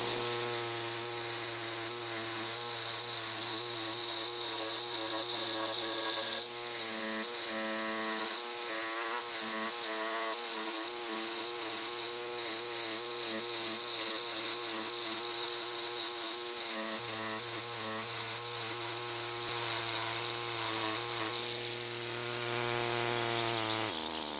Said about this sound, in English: I take this great big super jack with this chisel tip, just a chisel on there, and I run it along there to get rid of all those marks